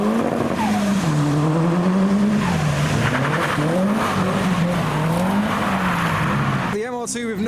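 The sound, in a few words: Mazda MX-5 cars driving over speed bumps, turbocharged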